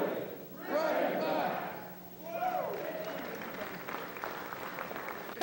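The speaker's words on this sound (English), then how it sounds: "Anthony engaged the group in a cheer for Crafton's favorite team," A group at a memorial gathering shouts a rousing cheer for the Arkansas Razorbacks, two swelling collective yells followed by scattered applause and clapping.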